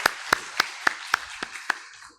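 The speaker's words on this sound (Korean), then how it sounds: "우리 하나님 앞에 영광의 박수 올려드리겠습니다" A church congregation at a Sunday worship service claps in unison, seven crisp, evenly spaced claps in a steady rhythm before falling quiet.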